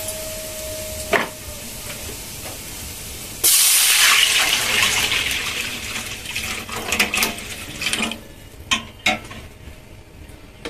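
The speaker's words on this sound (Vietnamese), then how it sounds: "Đổ nước vô." Water poured into a hot pan of fried garlic for soup hits with a sudden loud hiss and sizzle that gradually settles, followed by a few scattered clinks of a utensil against the pan.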